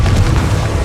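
A Confringo spell blast in Hogwarts Legacy gives a loud, deep, rumbling boom that fills the whole moment with heavy low-end force and no talking.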